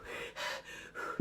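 A voice imitates heavy breathing close to a microphone: three or four slow, loud exhales and inhales in a row, breathy and rasping, with no other sound.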